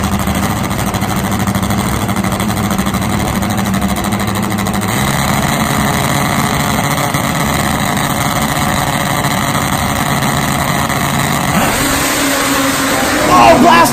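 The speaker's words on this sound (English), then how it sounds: "Blast off side by side." Top fuel nitro drag racing motorcycles launch side by side at a drag strip, a dense engine roar swelling louder near the end, with a commentator talking over it.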